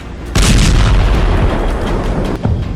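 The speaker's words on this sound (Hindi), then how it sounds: "धमाके का दूसरा वीडियो" A loud explosion in Tartus, Syria bursts suddenly, followed by a sustained deep roar and rumble, with a second thud near the end.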